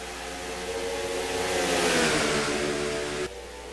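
Race cars revving and accelerating on a restart at the Bristol dirt track in a racing video game, a rising engine drone that swells then cuts off abruptly, no voices.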